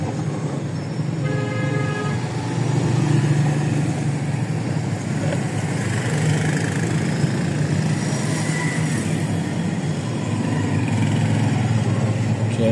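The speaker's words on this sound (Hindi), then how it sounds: "Traffic jam." Busy road traffic in a jam on the way from Faisalabad to Lahore, a steady loud wash of engines with repeated horn toots sounding in short bursts throughout, no one speaking.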